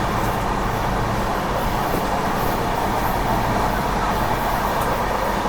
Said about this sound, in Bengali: আমাদের ট্রেন ধানবাদে ঢুকছে